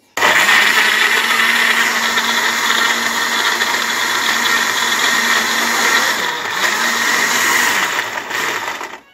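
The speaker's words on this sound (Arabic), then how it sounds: "احنا هنضرب بقى الخلطه دي يا ماما في الخلاط" A blender whirs loudly and continuously nearby for about nine seconds, its steady motor whine wavering slightly before winding down at the end.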